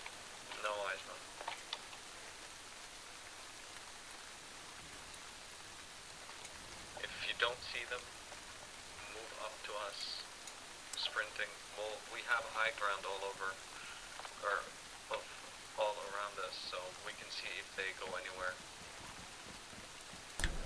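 Heavy rain falls in the ARMA 3 video game as a soft, constant hiss, quiet and steady, with brief bursts of voice or radio chatter breaking in over it.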